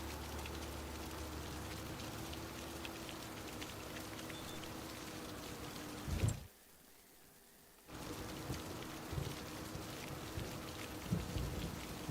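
Steady rain in the Farming Simulator 25 video game, a dense, even hiss of falling drops that cuts out completely for over a second before returning just as strongly.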